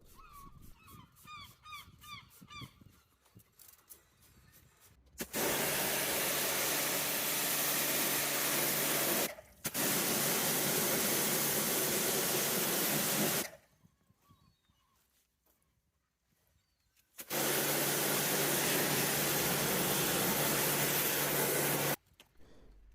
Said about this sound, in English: What I'm doing here is just spraying some tar and glue remover on it